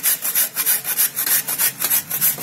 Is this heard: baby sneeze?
no